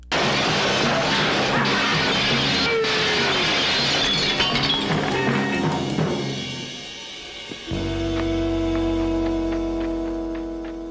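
Glass smashing in a 1970s martial arts film fight scene, a long loud crash of shattering glass and debris with scattered tinkling, fading out before a steady music-like tone takes over.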